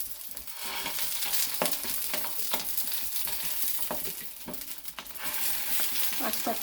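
Fish parcels of eel wrapped in banana leaf sizzle and crackle in hot oil, with a steady frying hiss broken by sharp pops and occasional clatter as pieces are set in the pan.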